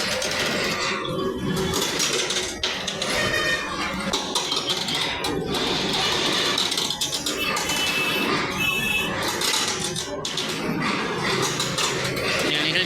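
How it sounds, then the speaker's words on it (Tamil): A drilling rig boring holes for metro rail pillars grinds and clatters steadily, with metallic knocks and rattles running through the whole stretch, loud and close. "மெட்ரோ ட்ரெயின் வேலை பில்லர் அமைப்பதற்காக துளையிட வேலை நடந்து கொண்டிருக்கிறது."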